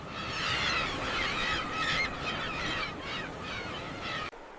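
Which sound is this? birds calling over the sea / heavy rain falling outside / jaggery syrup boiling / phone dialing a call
birds calling over the sea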